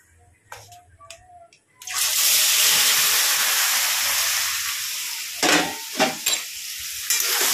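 Vegetables are dropped into hot oil in a pan on a gas stove and burst into a loud, sustained hiss that settles into steady frying, with a few clatters of stirring near the end and faint voices before it.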